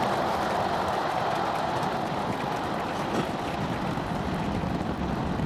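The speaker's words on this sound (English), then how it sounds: "You just heard the rumble hitting us about 6 miles away." Low, continuous rumble of a SpaceX Starship rocket launch heard from roughly six miles away, a steady broadband roar with wind noise, no voices.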